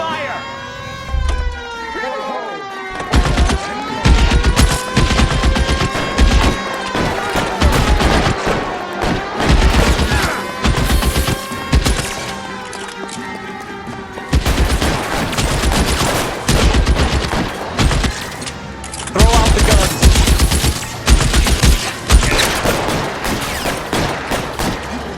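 A gunfire shootout during a vice case in the L.A. Noire video game, sustained shots and bursts over a tense backing score, with a siren-like wail and voices speaking throughout.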